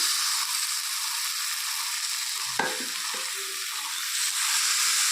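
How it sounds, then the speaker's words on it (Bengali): Mushrooms sizzling loudly and steadily in a pan with spiced fried potatoes, with a single sharp knock from a spoon midway. "এখন এর মধ্যে মাশরুমগুলো দিয়ে দেবো।"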